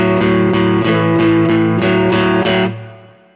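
A blues riff played in even triplets, three repeats per note, on a distorted, amplified instrument: a loud, steady run of about eight clipped attacks that ends on a ringing note fading out.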